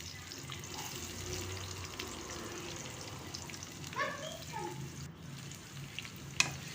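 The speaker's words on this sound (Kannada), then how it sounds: "ಈರುಳ್ಳಿ ಹಾಕಿ ಫ್ರೈ ಮಾಡ್ಕೊಳ್ಳೋಣ." Onions with garlic fry in a pan for a spinach and egg palya, a soft steady sizzle with occasional stirring scrapes and a light clatter near the end.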